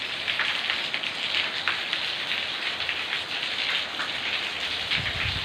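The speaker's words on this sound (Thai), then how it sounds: "ฝนยังตกอยู่เดี๋ยวจะให้ดูบรรยากาศนะครับ" Steady, heavy rain pours down in Takhu, Surin, Thailand, in a continuous dense hiss, close and unbroken, with a low thud near the end.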